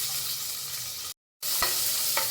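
Chopped large onions and small sambar onions sizzle and fry in oil inside a pressure cooker, a steady bright hiss. It cuts out briefly, then returns with a couple of stirring clinks.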